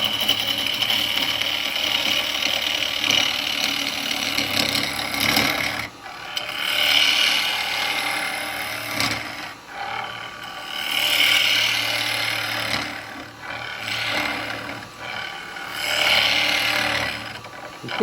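A turning tool bounces on its bevel against the end grain of a wooden bowl spinning on a lathe, a rapid buzzing chatter that comes in uneven surges and dips, loud and close with no talk.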